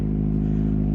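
A Kawasaki ZX25R motorcycle engine runs with a steady, close, loud droning hum and strong low harmonics, holding an even note for about a second with no talk.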